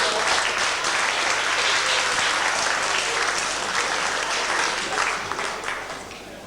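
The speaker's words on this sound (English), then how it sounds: "Give Betsy a great big round of applause." Warm audience applause for a stage volunteer at a 1995 Order of the Magi magic evening at Manchester Grammar School: a full, sustained wash of clapping from a large crowd that stays loud, then eases slightly toward the end.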